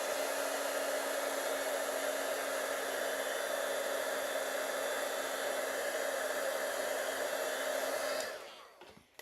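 A hair dryer runs close and steady on wet paint, a loud continuous whooshing blow for about eight seconds before it is switched off and winds down, followed by a brief click.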